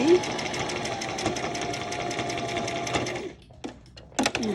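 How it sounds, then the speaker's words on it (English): A sewing machine running a steady straight stitch on lace, a dense continuous whirring that stops near the end, followed by a few short bursts of stitching. "Now I'm going to do straight stitch on this."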